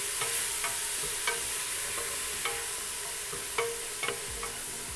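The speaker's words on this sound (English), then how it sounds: "We're gonna saute our onion until it's translucent." Chopped onion sautés in bacon fat in a soup pot, a steady close sizzle broken by sharp scrapes and clinks of a spoon stirring against the pot.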